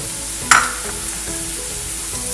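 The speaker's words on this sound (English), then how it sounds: "And just saute it for a while." Coriander and cumin powder sizzle in a hot pan for restaurant-style malai kofta, a steady soft frying hiss with a sharp clatter of stirring near the start and another at the end.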